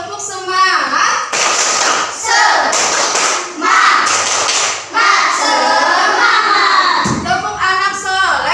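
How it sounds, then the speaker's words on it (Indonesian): Children in a classroom clapping together in rhythm during the 'tepuk semangat' clapping game, sharp bursts of hand claps mixed with chanting young voices and an adult speaking. "kita tepuk dulu. Tepuk semangat."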